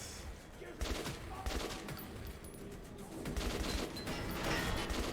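Assault rifle gunfire in Metro 2033, a dense, sustained stream of shots forming a continuous loud clatter through the whole stretch with game sound effects mixed in, and no speech.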